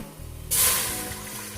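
Water hitting a hot pan while carrot murabba is being made, a sudden loud hissing sizzle that bursts in and then slowly tapers off.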